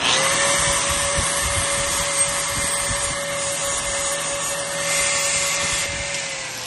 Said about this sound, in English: and then I pull it out, grab my grinder